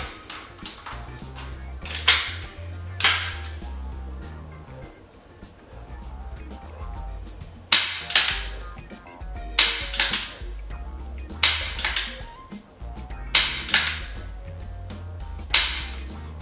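Gunshots crack at a shooting range as a magazine is emptied, sharp loud reports arriving irregularly, a pair early and then a quick series of about seven, each with a short echoing tail.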